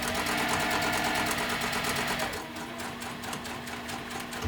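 A sewing machine back stitching runs fast with a steady rapid clatter, then slows into a slightly quieter, looser stitching rhythm.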